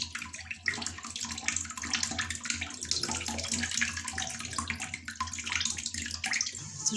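Water pours steadily over barley couscous, a continuous close splashing and gurgling that runs without pause, with no voices.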